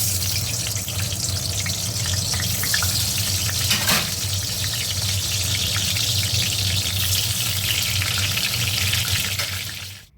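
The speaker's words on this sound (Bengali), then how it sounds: "দুটো স্টিলের বোতলও মেজে পরিষ্কার করলাম" Running water splashes steadily into a kitchen sink while two steel bottles are scrubbed and rinsed. The rushing flow stays loud and continuous for about ten seconds, with no one speaking, then cuts off.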